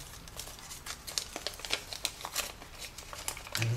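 Paper crinkles and rustles in close, quiet bursts while being inside-reverse folded into an origami scorpion, a soft steady crumpling texture with no talk.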